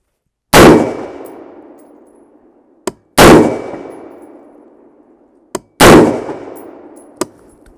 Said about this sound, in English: All right, there's my first 3 rounds.